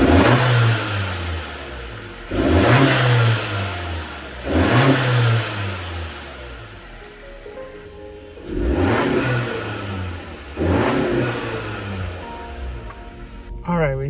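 A Honda Civic FK7 fitted with a PRL intake revs repeatedly nearby, five loud surges climbing and falling back toward a low idle between pulls.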